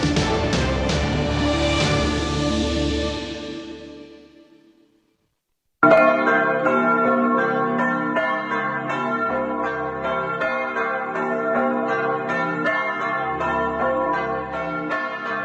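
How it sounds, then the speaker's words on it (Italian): Church bells of Sant'Ulderico in the small village of Dolina ring out loud and resonant, fading to silence, then start again in a sustained, overlapping peal. "Sono tornate a suonare ieri pomeriggio le campane di Sant'Ulderico di Dolina"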